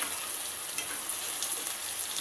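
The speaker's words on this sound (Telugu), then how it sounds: "ఇప్పుడు మనం టమాటోస్ యాడ్ చేసుకున్నాము ఇది కొంచెం ఆయిల్ పైకి ఫ్రై అయ్యే వరకు" Chopped tomatoes frying in oil in a pan for pav bhaji, giving a steady, dense sizzle that stays close and even throughout with no talk.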